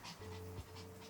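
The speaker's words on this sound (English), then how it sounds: "dogs are in here distracting me" Dogs panting close by indoors in a steady quick rhythm, heard alone for about a second.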